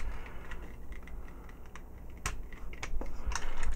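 Plastic parts of a Transformers combiner toy, Madblender aka Mixmaster, being snapped and clicked into place during transformation, a run of small sharp clicks and rattles up close over a soft handling background, with no talking.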